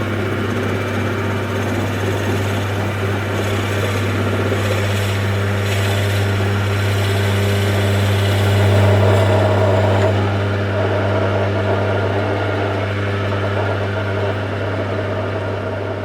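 A wood lathe turning a Viking-style cup gives off a steady motor hum with a low oscillating drone. A slight swell in the middle comes as the cut wobbles. There is no talking.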